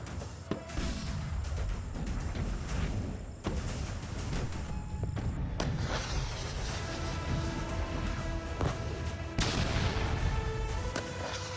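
Explosions and gunfire crack and boom at a night-time military exercise, AMOGH Fury, as a dense, continuous roar with repeated sharp blasts over a rumbling background, loud and sustained.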